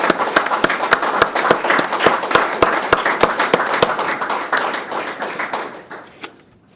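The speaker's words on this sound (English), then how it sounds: "So a round of applause for those firefighters." Audience applause for graduating firefighters at a Fire and Rescue NSW graduation ceremony, a steady crowd of hand claps with sharp individual claps standing out, fading out near the end.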